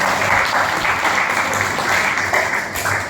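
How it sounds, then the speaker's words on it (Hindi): An audience at a health talk claps together after being urged by the presenter, a loud, sustained burst of many hands close by, even and continuous with a faint low hum underneath. "अरे तालियां तो बजाओ।"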